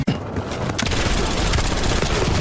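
Rapid bursts of gunfire in a video game, a loud, continuous fusillade of machine-gun shots that starts with a sharp boom and runs steadily to the end, with no talking.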